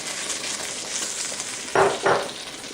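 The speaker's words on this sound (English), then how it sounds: "I'm going to mix this up for a moment here." Vegetables and spaghetti sauce get stirred in a pan for a quick curry. Two short scraping, sizzling strokes stand out near the end over a steady low frying hiss, with no speech.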